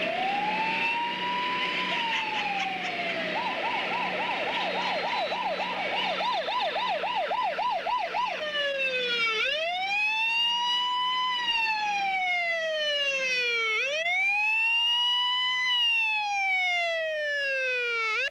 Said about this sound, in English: The sound of an ambulance anywhere can cause a person's heart to beat a little faster.